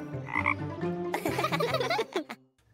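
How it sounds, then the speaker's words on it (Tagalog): A cartoon frog gives a short, close, throaty croak in a few uneven bursts lasting under three seconds. "Aha! Isang palaka!"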